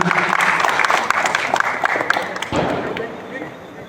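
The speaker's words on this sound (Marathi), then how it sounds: "जोरदार टाळ्या देऊया त्यासाठी" An audience claps at the inauguration ceremony of a sports club, a dense burst of hand claps that tapers off over a few seconds while a voice talks over it.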